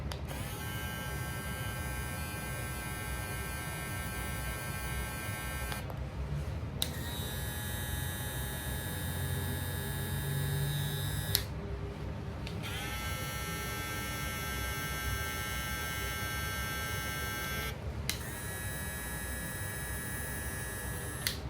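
A Matsui hair clipper motor runs in three long stretches with brief pauses between, a steady close electric buzz with bright whining overtones and no talking.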